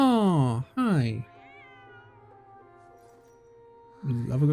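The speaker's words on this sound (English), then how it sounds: "Love a good cat." A cat meowing in the video game Genshin Impact, two drawn-out, close, loud meows separated by a short gap, followed by quiet soft game tones, then another meow starting at the end.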